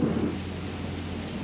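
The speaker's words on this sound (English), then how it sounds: "Oh, stock footage. It is thunder." Thunder from stock storm footage in a TV show rumbles continuously and loudly with deep low-end weight and a wash of rain-like noise, and no voices.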